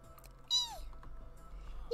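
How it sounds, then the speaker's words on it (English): A cat meows once in the video game Minecraft, a short, clear mew with a falling pitch, followed by a faint second cry at the end over a quiet low ambient hum. "There's another kitty. Hi there. Come here, kitty, kitty."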